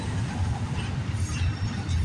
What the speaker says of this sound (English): this train going through is pretty loud